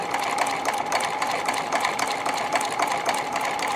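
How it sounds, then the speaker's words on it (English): A Husqvarna Viking White Euroflair 8910 sewing machine stitching the keyhole end of a buttonhole, a steady fast mechanical whirring and rattling of the needle mechanism running continuously up close. "It's now doing the keyhole part of the buttonhole. It's going back down."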